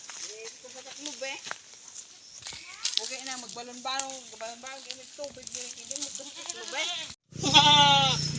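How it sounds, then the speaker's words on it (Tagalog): Goats bleat repeatedly at close range, a string of wavering cries in quick succession, with a louder burst of noise at the end. "Tatlong kambing. Nandun ang isa."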